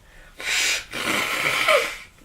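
Someone blows their nose: a short forceful blast, a brief pause, then a longer wet honking exhale close by, with no talking.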